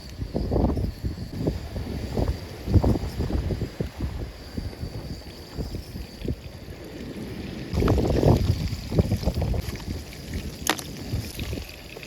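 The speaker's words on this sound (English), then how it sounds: "Wind is is all over the place." Gusty wind buffets the microphone on the Dorset coast while sea fishing, with a steady roaring rumble that swells and fades and strengthens noticeably partway through.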